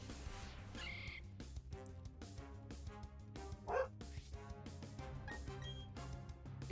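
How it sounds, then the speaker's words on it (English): Dogs barking loudly in a safari video game, repeated bow-wow barks in quick succession over a busy, rhythmic game soundtrack. "Instead we got dogs that bark loudly."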